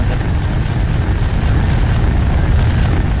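An explosion in a Star Wars Clone Wars video game roars as a dense, sustained low rumble, loud and continuous throughout.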